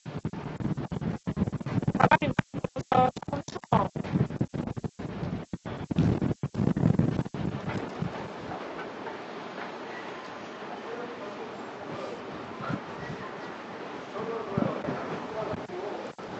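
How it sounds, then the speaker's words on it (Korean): Strong wind buffets the microphone outdoors on a Yeouido outing, heavy low rumbling gusts chopped by dropouts in the first half, then a steadier roar with occasional gusts; faint voices sit underneath. "바람 많이 불죠?"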